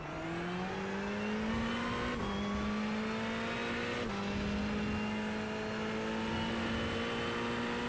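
Ferrari GT3 race car in iRacing at Circuito de Jerez, its engine note rising steadily through the gears with two sharp upshift breaks, a loud continuous onboard drone.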